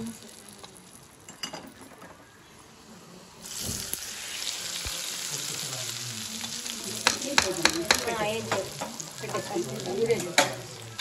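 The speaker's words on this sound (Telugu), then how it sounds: "తాలింపు దీంట్లో పోసుకోవాలి." A quiet start, then a sudden loud sizzle as hot tempering oil is poured into gongura chutney, followed by stirring and crackling that continues to the end.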